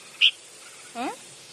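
A small bird gives a single sharp, high chirp, followed a moment later by a brief, lower, descending call, both close against a quiet background.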